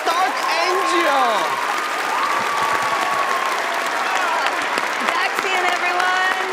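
A studio audience at a televised magic show breaks into loud, sustained applause with cheering after a card trick, steady and full throughout.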